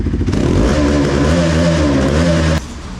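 A Bajaj Pulsar NS200 motorcycle engine revs hard at high RPM through its exhaust, a loud, close, rising and sustained roar that cuts off abruptly near the end.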